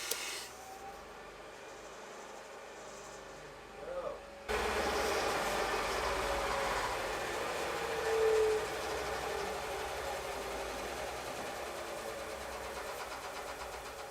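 A Harbor Freight 12x36 metal lathe driven by a treadmill motor starts after a quiet moment, then runs with a steady mechanical whir and rattle that briefly rises before settling.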